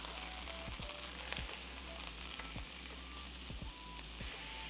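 Ground beef fries in a pan with a constant, close sizzle. A utensil scrapes and taps the pan now and then, over a low steady hum, and no one speaks.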